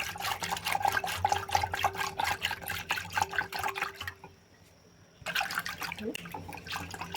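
Spiced buttermilk (mattha) with coriander being churned by hand in a vessel, a steady rapid sloshing and splashing liquid rhythm, close and fairly loud, pausing briefly before resuming.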